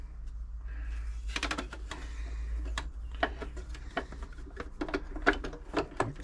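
Screws are driven into the bottom cover of a Janome 525s sewing machine, giving a string of close, sharp metallic clicks and ticks at an irregular pace over a low steady hum.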